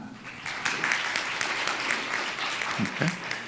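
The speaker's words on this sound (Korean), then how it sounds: "여러분 큰 박수로 환영해 주시기 바랍니다" Audience at a Korean business forum applauding to welcome a Hanwha Space Hub vice president onto the stage; a full, continuous wash of clapping that swells slightly midway, with a brief low voice near the end.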